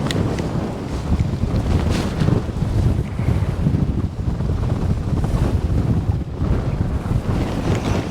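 Strong, constant wind of about 30 miles an hour on the California Delta roars and buffets the microphone outdoors with a low rumble, steady and loud throughout with no talking.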